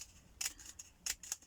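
Scissors snip through craft material in three quick, crisp cuts, close up and fairly quiet, with brief pauses between them.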